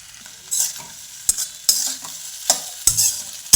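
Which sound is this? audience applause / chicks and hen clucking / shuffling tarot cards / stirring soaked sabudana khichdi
stirring soaked sabudana khichdi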